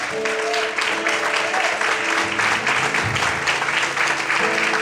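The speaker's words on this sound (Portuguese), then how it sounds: "Quantos podem aplaudir o Senhor essa noite?" A church congregation claps together in a steady, full burst of applause, with low musical tones and faint voices underneath.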